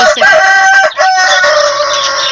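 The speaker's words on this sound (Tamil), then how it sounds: "இந்த சேவல் பார்த்தா எங்கள் பையன் இமானு ஜெரிஷ் எல்லாம் பயந்து ஓடுவாங்க" A rooster crows loudly and close, one long strained cock-a-doodle-doo filling the moment, with no talk around it.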